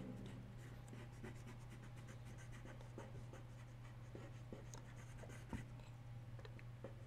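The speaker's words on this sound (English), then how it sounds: "Now, let's clean and erase what I don't need." Faint, steady scratchy rubbing of an eraser cleaning up a pencil sketch of a glass of wine, close and continuous over a low background hum.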